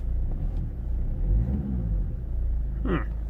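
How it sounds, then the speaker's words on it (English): A Ford Mondeo with an engine malfunction revs under throttle, a low close rumble that swells and then settles, with a short voice near the end. "the car responds okay to the throttle"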